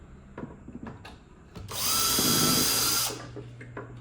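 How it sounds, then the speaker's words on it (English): A power drill whirs at high speed for about a second while boring a hole using a drilling jig, between brief knocks and handling noises nearby. "here's our bloom jig for drilling"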